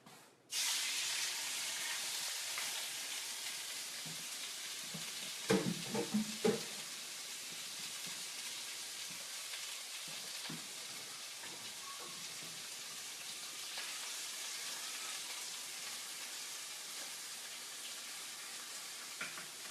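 Shrimp for General Tso shrimp sizzle steadily in a hot pan, a dense, continuous hiss that holds for the whole stretch, with a few louder pops and clatters near the middle and no one speaking.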